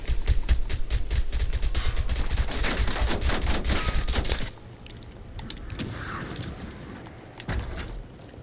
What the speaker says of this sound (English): The TR2 marksman rifle with the full auto conversion is actually pretty good